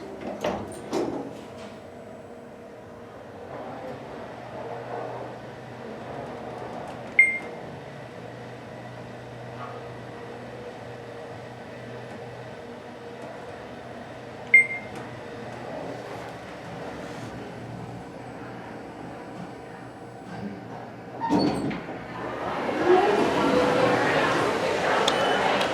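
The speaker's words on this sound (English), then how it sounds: "Door operator is very, very loud." Schindler 3300 XL elevator door operator at a Restoration Hardware gallery running steadily as the doors open and close, with a low mechanical hum, a couple of sharp clunks and a louder rushing motion near the end.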